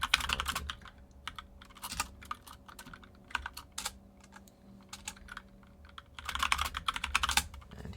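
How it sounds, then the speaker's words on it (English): Rapid clicking keystrokes on a computer keyboard come in uneven bursts and pauses, close and fairly quiet, with no voice over them. "And here I am typing instead of hitting the upgrades."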